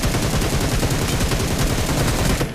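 Rapid automatic gunfire in the mobile battle royale game BGMI, heard as a loud, dense burst of closely spaced shots firing continuously before cutting off at the end.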